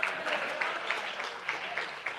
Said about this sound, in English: so I'll take a round of applause for me